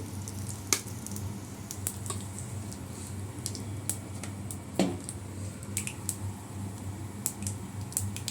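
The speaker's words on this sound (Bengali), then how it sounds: "একটু কালো জিরা ফোড়ন দিয়ে দিলাম" Nigella seeds tempering in hot oil in a pan with already fried mourala fish, a soft steady sizzle with scattered sharp crackles and pops, close up with no talking.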